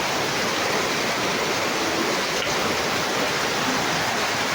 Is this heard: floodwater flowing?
yes